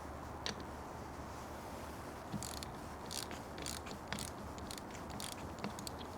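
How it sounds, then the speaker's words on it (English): Crossbar bolts being hand tightened on a Tesla roof rack, giving a series of faint, close mechanical clicks and ratchet-like ticks spread irregularly over a quiet, steady background hum. "let me go ahead and hand tighten them first, on all corners first"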